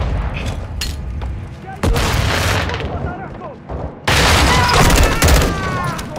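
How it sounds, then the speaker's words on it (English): Battle in Call of Duty Modern Warfare II (2022): loud, dense rolling gunfire and heavy rocket booms that swell abruptly twice and stay near and intense throughout, with faint voices partly buried under the din. "Crash site is taking rocket fire from building 2!"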